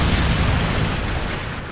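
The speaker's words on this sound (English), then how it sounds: "Friendly Predator missile inbound." Predator missile explosion in Call of Duty MW3, a loud, sustained broadband blast that rumbles steadily for under two seconds and tapers slightly at the end.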